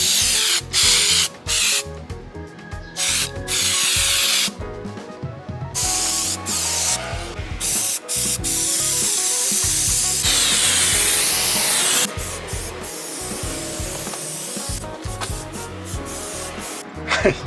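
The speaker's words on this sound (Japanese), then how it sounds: "黒のスプレーがね、飛び散ると思うんですけど" Black spray paint hisses from an aerosol can in long, loud bursts, separated by brief pauses and several rattling shakes, sounding close by during a DIY painting job.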